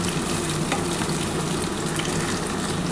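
Mutton keema fritters frying in hot oil in a pan, a loud, continuous close sizzle with a dense crackling hiss and no voices.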